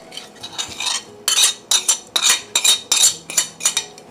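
A spoon stirs sugar into Filipino-style sweet and sour pork in a pan, giving a run of scraping clinks against the metal, irregular at first then steady, close and fairly loud with no talking.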